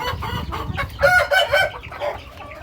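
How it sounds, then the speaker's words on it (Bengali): Hill breed chickens cluck loudly and close by in a rapid, uneven series of calls, with one drawn-out, crowing-like cry in the middle. "এই যে আমার এখানে পাহাড়ি মুরগিগুলো আছে"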